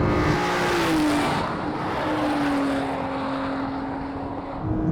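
A car launched from a standstill with launch control accelerates hard, its engine giving a steady, sustained drone at moderate volume, heard alone.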